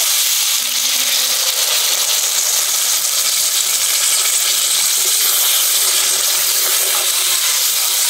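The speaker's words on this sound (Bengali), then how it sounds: "মাছও কষানো হয়ে গেছে, এবারে জল দিয়ে দেবো।" Water pours into a hot pan of chicken curry with elephant foot yam, making a loud, steady, close hiss and sizzle that runs without a break.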